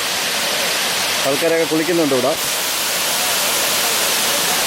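Alakapuri waterfall at Kanjirakolli in Kannur, where clear water splits into two branches and pours down. It makes a steady, even rushing roar throughout while a person talks briefly over it.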